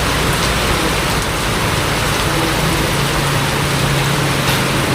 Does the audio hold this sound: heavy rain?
yes